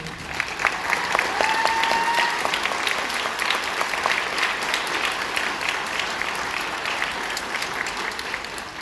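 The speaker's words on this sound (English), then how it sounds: "We'd like to give you a round of applause and thank you." A ceremony audience applauds nursing faculty at a School of Nursing white coat ceremony, steady dense clapping that holds at an even level for about nine seconds with a faint whistle-like tone early on.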